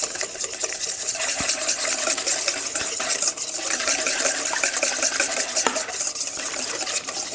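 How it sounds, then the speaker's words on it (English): Remoulade sauce is whisked briskly in a bowl, giving a steady, rapid scraping and swishing with occasional clinks of the whisk against the bowl. "We're gonna give this a healthy whisk."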